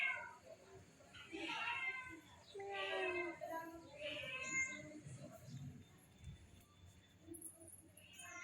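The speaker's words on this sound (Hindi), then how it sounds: "नीचे देख सकते बिल्ली है, म्याऊं म्याऊं कर रही है।" A cat meows repeatedly below, outdoors on a warm, sunny afternoon after heavy rain. The meows are irregular and fairly faint, heard at a distance.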